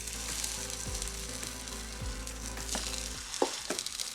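Bami noodles fry in a little oil in a pan, a steady close sizzle with occasional stirring clinks and knocks.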